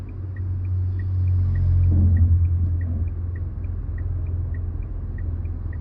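A car rolling along steadily during a driving lesson, low engine and road rumble swelling slightly then settling, with a faint regular ticking like an indicator running throughout.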